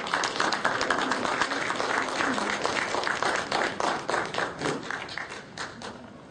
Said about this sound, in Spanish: a quien lo recibimos con un caluroso aplauso